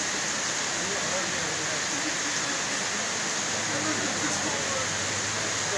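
Heavy rain pouring during a wet spell in Manisa, a steady, dense hiss that fills the whole stretch without pause, close and constant.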